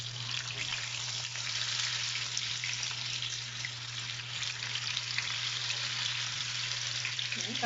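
Tofu browns in a hot frying pan, giving a continuous bright sizzle with a steady low hum beneath and no talking.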